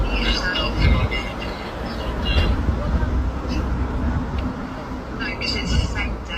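A London train in motion gives a continuous low rumble and rattle of rolling carriages, with people speaking over it.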